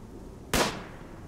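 A single sharp gunshot from a firefight in the colony game Rimworld, one loud broadband crack with a short tail over quiet background noise.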